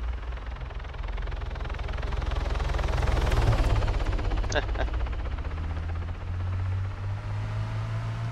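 Military transport helicopter in Arma 3, a close steady rotor thump and engine whine that swells toward the middle, with a couple of sharp clicks partway through and a droning hum carrying on to the end.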